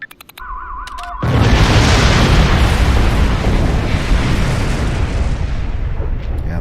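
A loud explosion in the Star Trek Online video game bursts in after a brief electronic tone, then rolls on as a long, heavy rumble that slowly fades.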